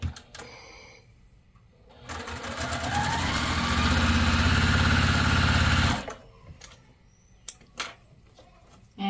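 Sewing machine stitching quilt-sampler fabric in a rapid mechanical patter that starts, holds steady for several seconds, then stops, with small handling clicks and taps before and after.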